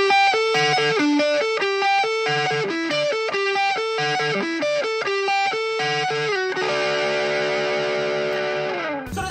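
Les Paul electric guitar on its front pickup through a heavy distortion effect, played alone as a melodic lead line with sustained distorted notes, ending in a ringing strummed chord that cuts off.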